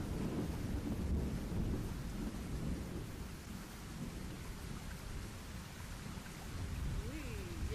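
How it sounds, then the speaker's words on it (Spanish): Steady heavy rain with deep rolling thunder underneath, a continuous stormy roar that swells and eases without pause. "está lloviendo de verdad."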